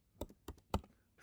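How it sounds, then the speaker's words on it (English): Three crisp key clicks on a computer keyboard sound at an even pace, close and quiet, in an otherwise silent room with no voices. "So let's start typing assets"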